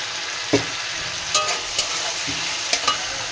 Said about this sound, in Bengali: এবার আমি এই মশলাগুলো ভালো করে সবজির সাথে নেড়ে নিলাম।